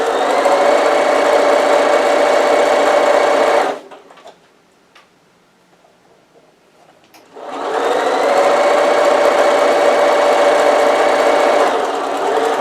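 A sewing machine runs on a long stitch length while sewing a cushion cover, steady and close, with two long runs broken by a short pause.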